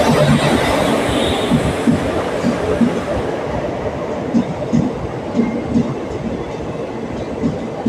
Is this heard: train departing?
yes